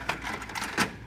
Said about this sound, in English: And it'll lock in.